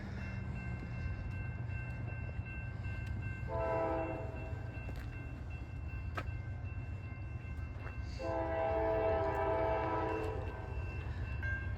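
A northbound train passes through Tipp City, Ohio, heard from a distance as a steady low rumble while two horn blasts sound, the second longer and louder.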